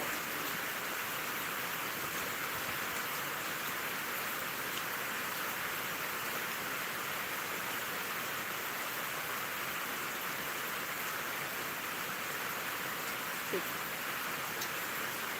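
Steady, even hiss of rain falling, continuous and fairly soft throughout, with no voices and only a faint isolated tick near the end.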